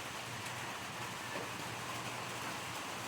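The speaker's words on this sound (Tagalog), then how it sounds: "Ulan pa rin." Steady rain falls around a hut by the water where a boat is kept, a dense continuous hiss with no pauses or talk.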